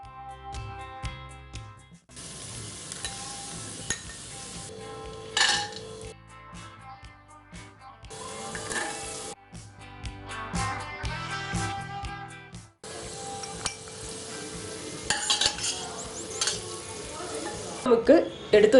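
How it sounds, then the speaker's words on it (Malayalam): Coconut pieces sizzle in hot ghee inside a pressure cooker, a crackling frying hiss that comes in bursts with occasional metal clinks of stirring, while a voice talks over it at times. "നെയ്യ് ചൂടായി വന്നപ്പോൾ ഞാൻ തേങ്ങാക്കൊത്ത് ഇട്ട് കൊടുക്കുകയാണ്."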